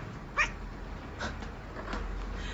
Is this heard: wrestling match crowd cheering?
no